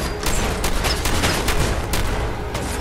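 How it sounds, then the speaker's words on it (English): A never-ending combat shotgun blasting in Fallout 4, firing rapid, evenly spaced loud shots in a relentless burst with no pauses for reloading. "When I'm in a jam, I tend to bust out the never-ending combat shotgun."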